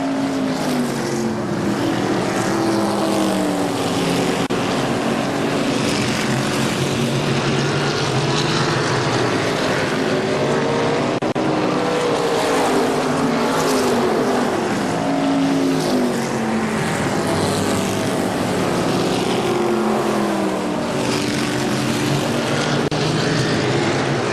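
Race cars roaring around KilKare Speedway, a dense, continuous engine drone with rising and falling harmonic whines as packs sweep past, loud and unbroken for the whole stretch with no voices.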